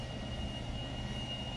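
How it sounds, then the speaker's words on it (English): A helicopter flies over the Grand Canyon near the South Rim, heard as a steady, even engine drone that holds constant with a faint high whine on top. "Right there, that's a helicopter."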